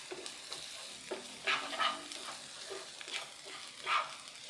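Fried egg rice being stirred in a pan, with a soft continuous sizzle and scraping strokes of the spatula recurring every second or so, close up and alone.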